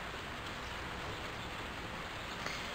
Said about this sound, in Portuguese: A chuva só veio aumentar mais agora.